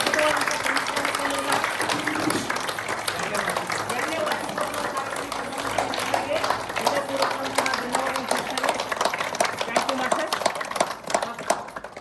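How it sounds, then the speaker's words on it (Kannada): Audience applause at a meditation centre gathering, dense continuous clapping from a crowd filling the whole span, with a voice and background sounds mixed underneath. "ಒಂದ್ಸರಿ ಜೋರಾಗಿ ಚಪ್ಪಾಳೆ"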